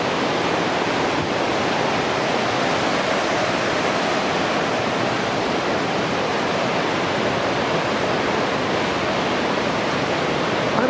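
Yellowstone's Lower Falls roars steadily and loudly, a dense, unbroken wash of crashing water with no pauses throughout.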